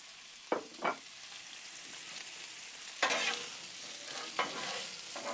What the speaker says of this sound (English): Let's throw down a little bit of oil to begin with, fry that sausage in.